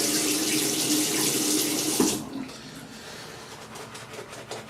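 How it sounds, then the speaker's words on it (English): Tap water runs steadily into a sink during a head shave with a Rockwell 6C razor, a loud broad rush that cuts off after two seconds, leaving quieter drips and splashes. "just gonna add a little water"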